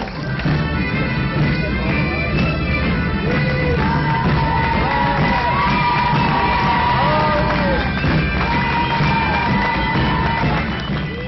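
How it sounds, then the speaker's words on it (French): Festival crowd at the Fête du Drac 2009 cheering and shouting in acclaim, a continuous loud mass of voices with whoops and cries rising over a steady din. "Oyez, oyez, braves gens, acclamez cette sage consécration!"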